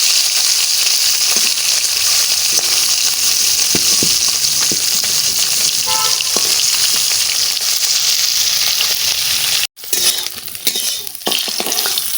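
Garlic, green chillies and cumin seeds sizzle steadily in oil in a pan for a long stretch, with occasional clinks of a utensil and a brief pause near the end.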